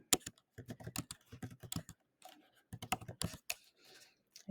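Numbers being typed on a computer keyboard, in quick bursts of close, crisp key clicks separated by brief pauses, with no voices.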